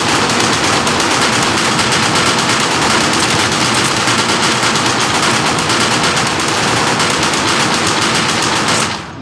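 Sustained automatic FAMAS rifle fire in the People Playground video game, a loud continuous burst of rapid shots lasting about nine seconds before cutting off abruptly, with no talking over it.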